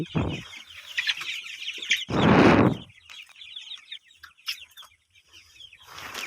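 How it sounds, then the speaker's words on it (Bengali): Chickens on a small chicken farm cluck and call in steady bursts, with a loud close flurry of wing flapping midway and more clucking near the end, no talk. "আমার মুরগিগুলো খুবই সুস্থ আছে তো দেখতেই পাচ্ছেন আমার মুরগির খামার"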